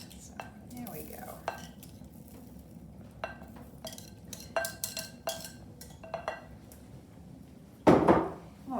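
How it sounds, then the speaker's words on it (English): Sweet potato chunks being added to a metal pot and stirred with a utensil in a home kitchen, a series of light clinks and scrapes ending in a louder clattering knock, with no talking. "I'll stir that around a little bit here."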